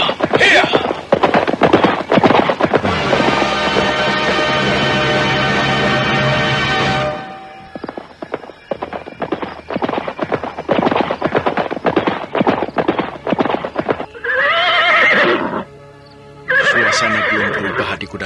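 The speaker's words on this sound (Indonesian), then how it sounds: "Kita berkuda saja di sepanjang jalan desa Iwah Lundu." Galloping horses on a village road in an Indonesian audio drama, loud rapid hoofbeats with repeated whinnies and neighs, the clatter running on and off in bursts, no speech over it.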